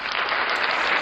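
A brief, dense burst of applause from many hands clapping at once, loud and even with no pauses.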